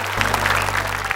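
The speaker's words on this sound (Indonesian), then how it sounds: "Boleh tepuk tangan boleh." A studio audience at a televised children's Quran memorisation contest breaks into brief, close, dense applause that lasts about a second.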